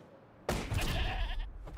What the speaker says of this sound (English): That goat's mine to kill.